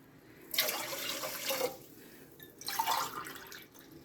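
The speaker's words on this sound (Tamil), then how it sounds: "இன்னும் ரெண்டரை டம்ளர் தண்ணி ஊற்றிக்கலாம்" Water is poured from a tumbler into raw rice in a cooking pot for a festival offering. Two separate splashing pours are heard close up, with no talking.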